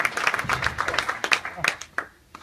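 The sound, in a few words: audience applause for Guillaume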